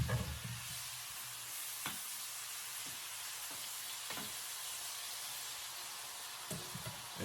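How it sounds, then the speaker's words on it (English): Shrimp, peppers and onions sizzle in hot melted butter as a continuous, fairly quiet hiss, with a few light clicks from the pan along the way. "now I'm about to add my shrimp and peppers, onions"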